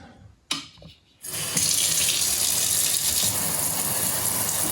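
Water gushes from a newly installed pull-down kitchen faucet into the sink, starting after a brief clunk and short pause, then a steady close hiss of running water that continues alone.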